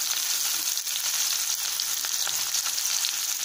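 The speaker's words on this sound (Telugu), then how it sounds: "ఆనియన్స్ కొంచెం ఫ్రై చేసుకోవాలి." Onions frying in hot oil over a high flame give a loud, steady sizzle that runs unbroken throughout with no talking.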